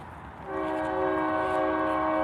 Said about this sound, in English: And you can still hear the train, which kind of adds to the like old town like vibe with the horn.